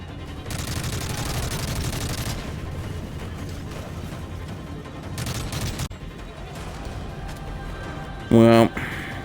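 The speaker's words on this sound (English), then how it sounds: "Machine gunner on the balcony." An enemy machine gunner on a balcony fires sustained bursts in Call of Duty: Modern Warfare 3. The rattling fire continues under the game's other battle noise, with a short electronic beeping near the end.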